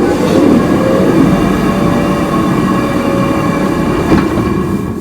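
An old flour mill machine in Montfoort, the Netherlands, runs after being switched on, a loud, dense continuous mechanical rumble and clatter with a faint squeal near the end, steady throughout and close by.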